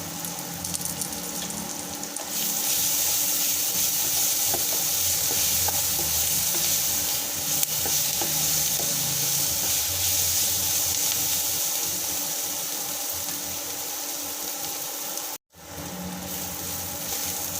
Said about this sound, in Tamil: கருவேப்பிலை கொஞ்சம் போட்டுக்கலாம்